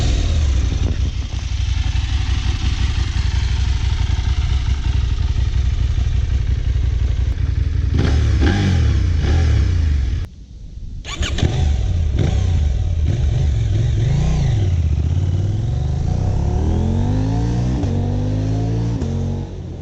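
A KTM 790 Adventure R motorcycle on its stock exhaust runs loud and close, holding a steady drone before a brief cut, then revving up and down in rising and falling sweeps.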